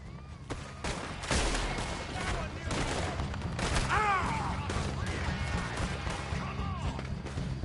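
Gunfire erupts in a frontier camp in Red Dead Redemption 2: a dense, continuous fusillade of shots and crashes running throughout, with shouting voices over the din.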